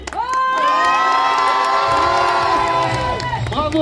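Loud crowd at the Epitanime 2025 cosplay contest erupts in sustained cheering, shouting and whistling for the participants, a dense wall of voices and high-pitched screams that swells and holds for several seconds.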